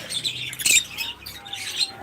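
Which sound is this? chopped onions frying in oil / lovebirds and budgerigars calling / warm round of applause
lovebirds and budgerigars calling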